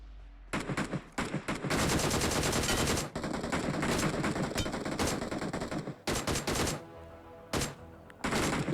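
Bursts of automatic gunfire from a PUBG Mobile battle in the Livik map, loud rapid volleys broken by short pauses, with several separate shots and bursts near the end.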